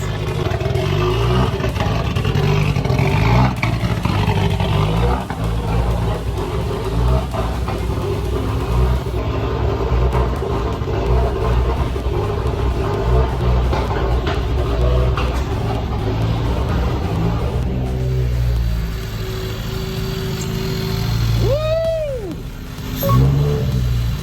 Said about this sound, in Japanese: エンジン今初めてかかったんで